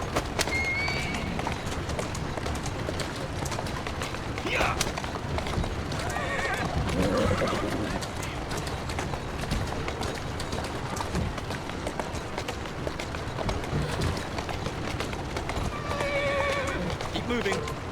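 A horse in the video game Assassin's Creed Syndicate whinnies a few times over the steady clatter of galloping hooves, with a voice talking now and then in the busy background.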